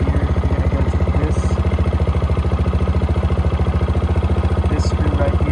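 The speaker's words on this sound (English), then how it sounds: "right now we have the engine idles at a pretty high rate" A Baja 90 ATV's small engine idles fast and steady, a close, even mechanical rumble with a rapid pulsing beat throughout.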